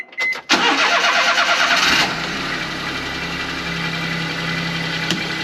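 A Daihatsu Midget II's small 31-horsepower engine cranks briefly, catches with a loud rev, then settles into a steady, even idle close by, with no voices.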